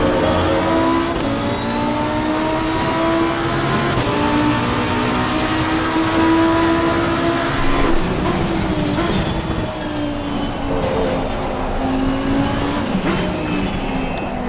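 GT race car engine in Assetto Corsa Competizione on a wet track, revving loud and continuous with steady pitch shifts through gear changes and a hiss of rain spray.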